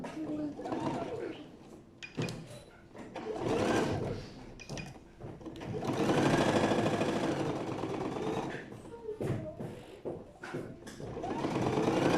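A sewing machine stitches a zippered pocket onto fabric in repeated bursts of rapid mechanical whirring, some long and some short, with a person talking between and over the runs.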